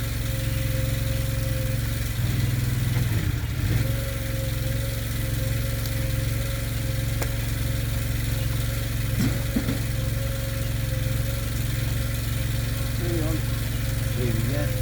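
A Stihl chainsaw, apparently a 72cc class saw, runs steadily at a low idle-like drone throughout, close and continuous, with someone talking over it at times.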